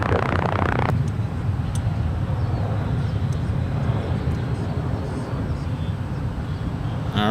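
Business jets, a Cessna Citation XL and an Embraer Phenom, roll for takeoff at San Francisco International Airport, a broad continuous engine roar with faint radio-like chatter underneath, steady and fairly loud.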